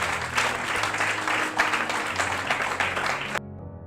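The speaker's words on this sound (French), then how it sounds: "applaudissez très très très fort pour vous-même" Dense, sustained audience applause at a student presentation contest, loud and continuous before cutting off abruptly near the end.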